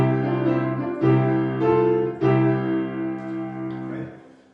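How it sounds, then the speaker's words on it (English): Piano octaves on C in the left hand, played in a hymn style on beats one and three, sound as four sustained low chords struck at an even pace, each ringing into the next before fading at the end. "we're going to play C octaves"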